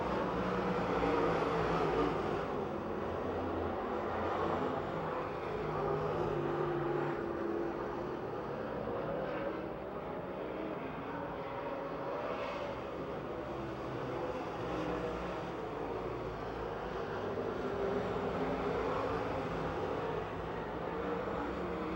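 Race cars racing at Pennsylvania Motor Speedway near Pittsburgh: a steady, distant roar of engines that holds for the whole stretch, with gentle swells as cars pass, and no clear individual car standing out.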